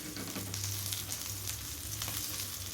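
Whole fish frying in oil over a medium flame, a steady close sizzle with faint crackles that fills the whole stretch without pause.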